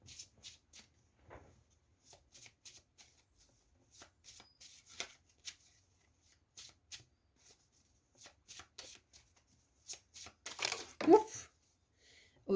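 Oracle cards for a fairy card reading are shuffled in quick, soft riffling bursts separated by pauses, close and quiet, with a spoken voice and a brief higher vocal sound toward the end.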